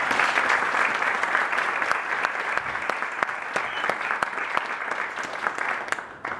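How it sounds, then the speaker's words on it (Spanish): Loud, sustained applause from an audience at a law faculty seminar at UNAM, dense clapping filling the room close by, with a few sharper individual claps standing out before it fades at the end. "Les pido un fuerte aplauso."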